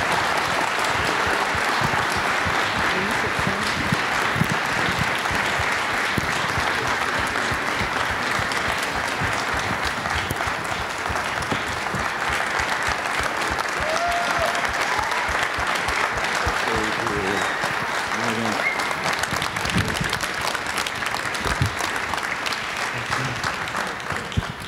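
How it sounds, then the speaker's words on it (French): Prolonged, dense applause from an audience welcoming a guest at a film conversation event. It is a steady roar of many hands clapping at even loudness for about twenty-five seconds, with no speech. "c'est un honneur pour nous et vous allez l'applaudir, Monsieur Asghar Farhadi."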